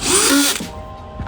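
A power drill drives a deck screw into decking with a loud, high whine that cuts off after about half a second as the clutch torques out, leaving a faint clicking tail.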